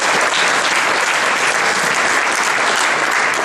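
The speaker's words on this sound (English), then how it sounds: "If we can give one more round of applause to our demos today" A crowd at a Silicon Valley mobile tech demo night gives a loud, dense round of applause for the evening's presenters, sustained and unbroken throughout.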